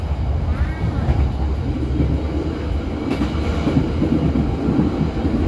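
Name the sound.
passenger train riding on rails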